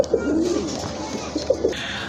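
Soft, low pigeon coos repeat a few times nearby, with faint background murmur, from a pair of red Rajgolla pigeons at a pigeon market.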